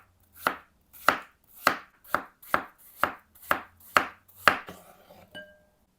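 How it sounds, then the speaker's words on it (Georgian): Apples are chopped with a knife on a board in nine crisp, evenly spaced strokes, close and clear, followed by a light clink at the end. "4 საშუალო ზომის ვაშლი დავჭრათ."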